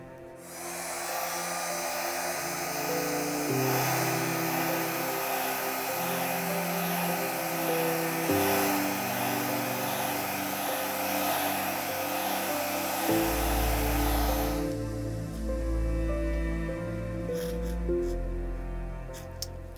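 A hair dryer blows steadily across fluid paint on a hoop canvas, a loud continuous whirring roar whose pitch and airflow shift as it moves, changing tone sharply near the end.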